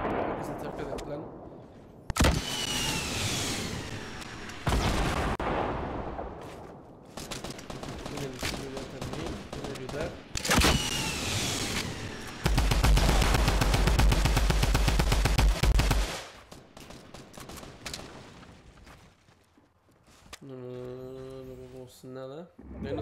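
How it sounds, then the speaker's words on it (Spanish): Bursts of automatic gunfire from a Fortnite duos versus squad battle crack out in loud, repeated volleys, including one long sustained burst, with a player's voice talking over parts of the exchange. "él nos está disparando"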